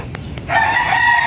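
Farm chickens and chicks make a brief burst of high peeping and clucking, close, following a quieter moment with a couple of faint chirps.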